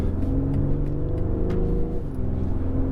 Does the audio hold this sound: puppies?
no